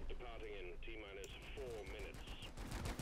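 Rapid gunfire in the co-op mining shooter Deep Rock Galactic rattles in quick bursts behind game sound effects, with a voice talking over it near the end.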